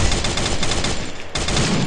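Rapid automatic gunfire from a handgun-style weapon in the mobile battle royale game Garena Free Fire, a dense continuous volley of close, loud shots with a brief pause before firing resumes.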